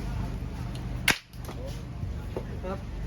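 A single sharp short-gun shot fired outdoors at a village stage event beside a Thai temple, one loud crack rising above a steady background hum, with a few faint voices around it.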